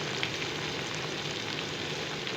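Potatoes and okra fry in oil in a pan for aloo bhindi, a steady dense sizzle that holds evenly throughout with faint crackles and no talking.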